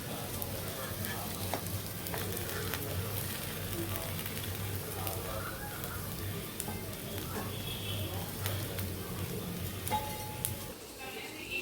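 Fish fry sizzles steadily in a pan at home, a soft continuous crackle with occasional faint clinks of a utensil and a voice talking quietly over it.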